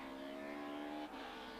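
Touring cars racing flat out downhill at Kyalami circuit in a 1994 championship round, engines holding a steady high whine that dips briefly as one passes, continuous and fairly distant, no talk.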